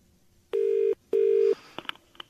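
A mobile phone ringing close to a microphone: two loud, steady tone bursts of about half a second each with a short gap between them, followed by a few faint clicks.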